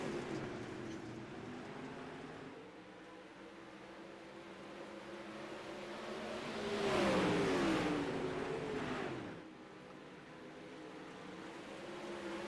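A field of iRacing race cars accelerates away at the green flag at Weedsport, a layered engine roar that swells to a loud peak midway with a rising pitch sweep as cars pass close, then drops back to a steady drone.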